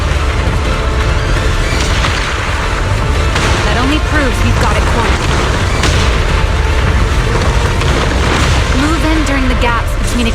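Repeated booming explosions from the video game Zenless Zone Zero rumble continuously beneath a dense, loud mix of battle effects, with occasional voices cutting through.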